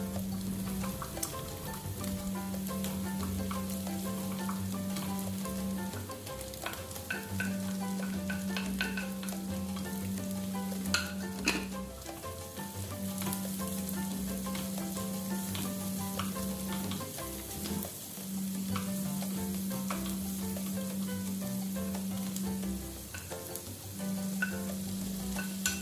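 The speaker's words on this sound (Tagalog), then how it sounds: "maglagay ng kaunting mantika at igisa or isote ang ating garlic," Garlic, onion and tomatoes sautéing in a little oil for pork giniling with squash, a continuous close sizzle with intermittent stirring and scraping in the pan throughout, a low steady hum underneath.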